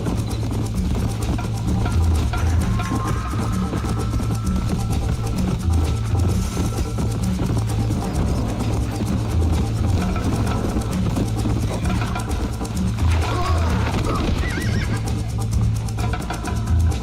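A horse in the Red Dead Redemption video game neighs over a dense, continuous bed of galloping hooves and game noise, the whinny fairly faint and buried in the mix.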